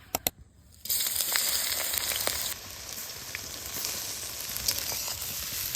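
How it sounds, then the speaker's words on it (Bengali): Chopped onion hits hot mustard oil in a wok with a few sharp clicks, then bursts into a close, dense sizzle that eases slightly and carries on steadily, with no one speaking. "এবার কড়াইয়ের মধ্যে দিয়ে দিব সরিষার তেল দিয়ে দিব তেলের মধ্যে পেঁয়াজ কুচি"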